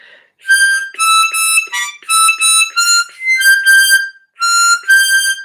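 A tremolo harmonica plays a practice exercise as a series of bright, wavering chords in short repeated phrases with brief gaps, close and fairly loud, with no talking.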